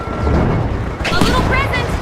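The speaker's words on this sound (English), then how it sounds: "Throwing a frag!" A frag grenade detonates in a competitive video game match, a sharp blast breaking through a dense, rumbling battle din midway, with excited voices talking over it.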